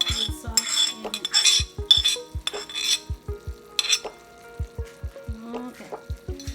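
Eggplant and teriyaki chicken in sauce cook in a pan, with a soft sizzle under repeated close metal clinks and scrapes of a utensil against the pan, arriving in uneven bursts.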